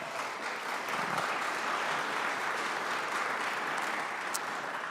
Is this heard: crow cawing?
no